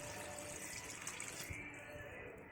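Water is poured into a pan of spicy mourola fish curry as it cooks, giving a faint, brief splash and hiss against a steady background noise, with no talk.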